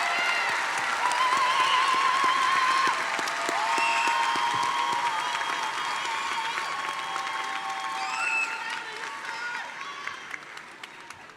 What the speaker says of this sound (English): please give a round of applause to the master's and special degree graduates